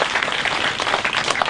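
An audience applauds steadily throughout, a dense, even patter of many hands at moderate loudness with no voices over it.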